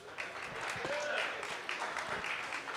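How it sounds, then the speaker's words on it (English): Applause from the audience at a home-brew competition awards ceremony, a steady wash of clapping across the whole span with voices mixed in underneath. "Give him a round of applause."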